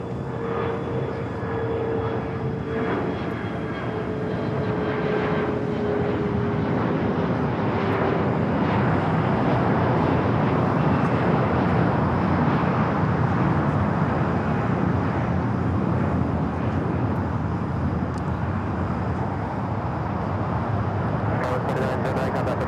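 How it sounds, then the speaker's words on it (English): A Hawaiian Airlines Airbus A330 arriving from Honolulu at Los Angeles airport produces a steady, broad jet roar with a faint high whine that fades in pitch, sustained and fairly distant throughout. "This is a Hawaiian A330 flight coming up from Honolulu."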